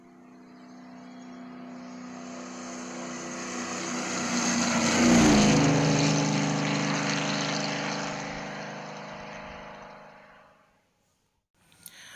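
An aircraft passes overhead, its broad engine roar swelling to a loud peak midway and then fading as the pitch drops in a clear Doppler shift, ending in near silence with a brief click.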